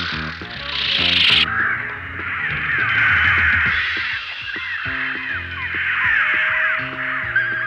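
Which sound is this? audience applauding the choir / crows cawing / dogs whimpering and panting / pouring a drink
crows cawing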